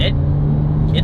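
A 2021 Kia Seltos SX compact SUV accelerates with a steady, close engine drone and a low hum that holds even through the short moment.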